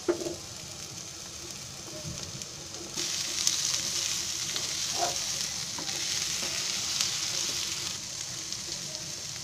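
Red pumpkin pieces fry with ginger and garlic in a home-kitchen pan, a steady close sizzle that grows brighter after a few seconds, with occasional stirring scrapes.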